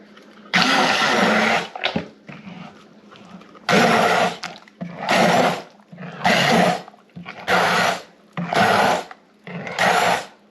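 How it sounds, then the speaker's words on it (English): An immersion blender mashes blackberries for jam in repeated whirring bursts, about seven on-off pulses of loud motor buzz with short quiet gaps between, close up. "I like using an immersion blender."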